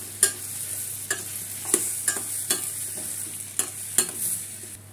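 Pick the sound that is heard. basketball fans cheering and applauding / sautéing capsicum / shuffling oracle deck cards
sautéing capsicum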